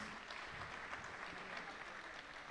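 Faint, distant applause from a morning audience welcomes performers to the stage at a Hindustani vocal jugalbandi concert, a steady wash of clapping throughout.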